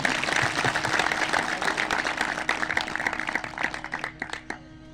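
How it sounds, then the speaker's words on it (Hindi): An audience breaks into loud, sustained applause at a public gathering, dense overlapping clapping that gradually thins into scattered individual claps as it dies down. "सब एक बार जोरदार ताली बजाएंगे"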